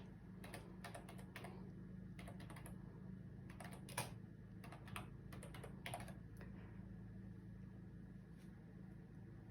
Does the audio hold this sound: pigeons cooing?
no